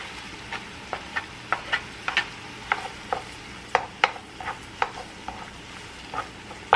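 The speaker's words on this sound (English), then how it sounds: "Now we're gonna add our lobster." Lobster stirs in a pan of melted salted butter, with a soft sizzle underneath and a steady series of sharp scraping clicks from the utensil against the pan, close and without talk.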